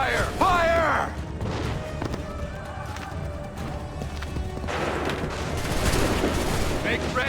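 A volley of gunfire rings out after shouted commands, with crackling shots, running and hoof-like clatter mixed with voices in a noisy battle scene.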